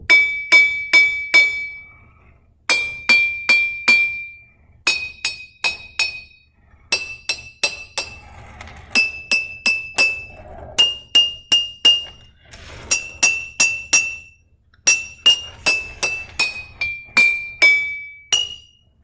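Spoon tapping an empty glass jar in quick clusters of three to five bright, ringing clinks, separated by brief pauses, close and fairly loud with no talking.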